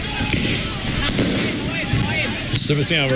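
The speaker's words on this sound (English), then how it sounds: "And they're shooting off fireworks." Fireworks and Roman candles pop and crackle in sharp bursts at a distance during riots in Indonesia, while people talk and exclaim over them.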